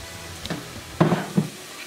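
Apples cook in fat over medium-high heat, giving a soft sizzle with a few short stirring scrapes and bursts close by, alone without talk.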